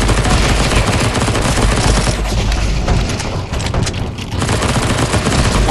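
Dense, continuous gunfire from the video game CS:GO Zombie Escape, on the ze_world_escapes_v1 map, loud and sustained throughout, easing briefly in the middle before picking back up.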